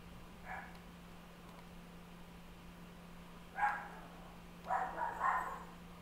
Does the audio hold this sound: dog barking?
yes